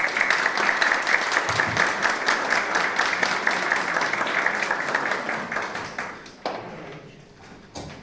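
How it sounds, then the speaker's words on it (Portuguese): An audience at a Brazilian ESG forum applauds in a dense, steady wash of clapping that holds for several seconds and then tapers off toward the end. "Uma salva de palmas para ela"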